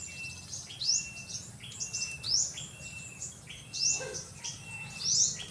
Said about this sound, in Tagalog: Ingay ng mga ibon po dito.